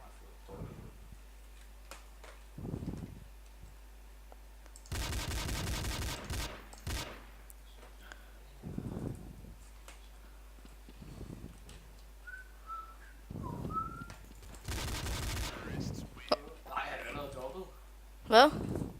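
Bursts of gunfire from the video game Counter-Strike: Source, with a couple of dense volleys and scattered single shots between stretches of someone talking.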